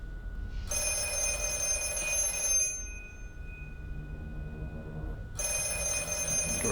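Old telephone ringing in the horror film The Black Phone, a loud electronic bell trill sounding in two bursts separated by a quiet gap, heard alone over a low room hum.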